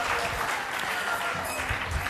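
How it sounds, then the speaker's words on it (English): Audience at a culture camp talents day applauds in a continuous crowd of clapping hands, steady and fairly loud across the whole stretch. "Can we have a round of applause for them?"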